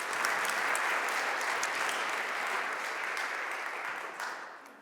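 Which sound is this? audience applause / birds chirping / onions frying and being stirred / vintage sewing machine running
audience applause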